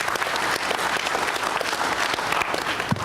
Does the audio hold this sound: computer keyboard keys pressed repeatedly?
no